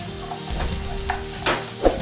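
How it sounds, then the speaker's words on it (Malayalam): Sautéed onions and small shallots sizzle with salt in a pan for a Kerala-style pork pepper fry. A steady, close hiss runs throughout, broken by a few stirring scrapes. "സവാള വഴണ്ടതിന് ശേഷം അതിലേക്ക് അര ടീസ്പൂൺ ഉപ്പും മുമ്പേ അരിഞ്ഞു വെച്ചിരിക്കുന്ന ചെറിയ ഉള്ളിയും കൂടി ചേർത്ത് കൊടുക്കാം"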